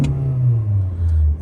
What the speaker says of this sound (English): I've got a warm engine at the moment, so that's why I'm giving it a little rev like that